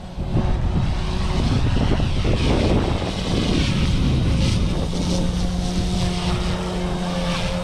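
A scale RC helicopter flies outdoors in wind, its rotor and motor giving a loud, continuous, close whirring drone with wind rumble over it throughout.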